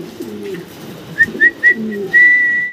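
Magpie pigeons coo in a low, rolling murmur, with a few short bright whistles and a sustained high whistling tone over the top; close and fairly loud, no talking.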